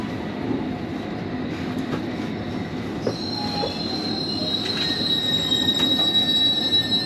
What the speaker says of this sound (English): they're a bit noisy now, the brakes on these things